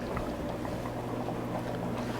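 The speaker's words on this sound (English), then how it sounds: "Let this continue to simmer and break down the tomatoes." Tomato soup simmers in a pot with a steady, soft bubbling hiss and a low background hum, unbroken and without speech.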